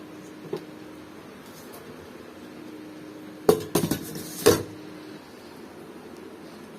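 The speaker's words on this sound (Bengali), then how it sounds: "এখন এই থালা বাসনগুলো মেজে ফেলবো কারণ কড়াইটা লাগবে" Plates, pots and a wok being washed by hand, with a quiet background and then a short cluster of sharp metallic clanks and clinks close by, followed by one more knock before things fall quiet again.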